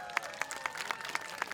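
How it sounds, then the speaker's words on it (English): Faint crowd applause at an outdoor powwow, a thin run of evenly spaced claps heard from a distance. "Let's get our drums, our dancers, a big round of applause before we start."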